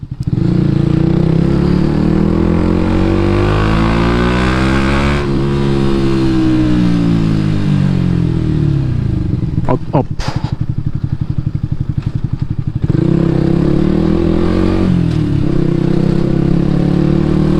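A Yamaha MT 125 motorcycle with an aftermarket Akrapovic exhaust runs loudly and close, revving and rising in pitch, dropping back, then clattering briefly before pulling away again with a deep exhaust note.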